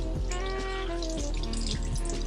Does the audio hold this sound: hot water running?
yes